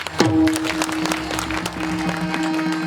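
A crowd at a kirtan gathering breaks into loud, sustained applause for the organising committee, with dense clapping close by and a held harmonium-like tone running underneath.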